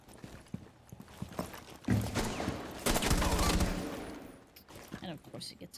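Gunfire crackles in a Rainbow Six match, with scattered sharp shots early on and then a louder burst of sustained fire in the middle. A voice talks over parts of it.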